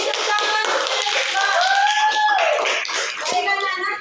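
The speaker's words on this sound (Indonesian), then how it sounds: "Beri tepuk tangan." Children in a classroom clapping their hands in a burst of quick taps, with young voices chattering and a teacher's voice over the clapping.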